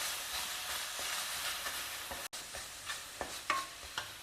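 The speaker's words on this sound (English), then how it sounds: "Now we will add this copra powder which has been soaked in milk and just fry it well in the ghee" Copra powder soaked in milk fries in ghee in a pan, a steady soft sizzle broken by a brief gap and several sharp scraping stirs near the close.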